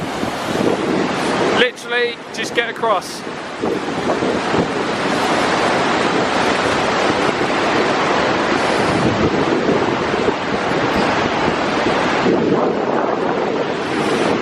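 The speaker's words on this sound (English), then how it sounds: "And there's the waterfall." A waterfall beside the Half Dome trail in Yosemite, a loud, continuous roaring rush of water mixed with wind buffeting the microphone, while a voice speaks briefly over it near the start.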